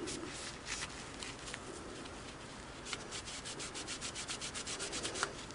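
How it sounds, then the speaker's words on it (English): A soft nylon brush scrubs a part from a Singer Model 353 Genie sewing machine with cleaner, giving faint, close, repetitive rubbing strokes that quicken into a steady rhythm toward the end. "And scrub it up with that soft nylon side of it."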